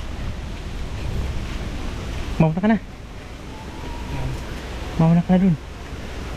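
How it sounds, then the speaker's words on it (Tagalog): Strong wind by the sea blows as a constant loud roar with surf-like rushing. Two brief spoken phrases cut in over it. "Lakas ng hangin, ang sarap."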